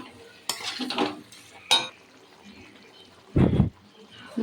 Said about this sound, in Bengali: একটু হালকা গরম জল দিয়ে একটু কষিয়ে নিই